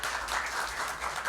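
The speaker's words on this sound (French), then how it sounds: "On applaudit, mesdames et messieurs." Spectators at a televised quiz match between school teams applaud briefly, a soft, even patter of many hands heard from a distance with no talking.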